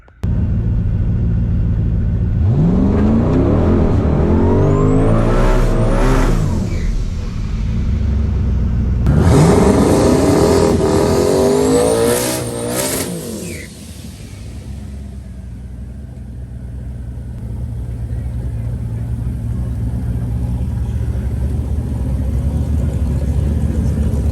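A car with a 5.3 engine runs at full throttle on a pass, loud and close, roaring up through rising gear pulls in two long bursts before easing to a lower steady rumble.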